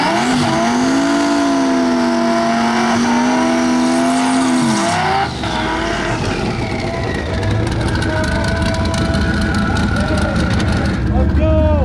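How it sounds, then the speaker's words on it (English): A Whipple-supercharged Ford Mustang drag car makes a loud, close launch pass: a steady high engine drone and whine gives way to a roaring, rising full-throttle run with tire noise, alone without talk. "running a Whipple supercharged Mustang"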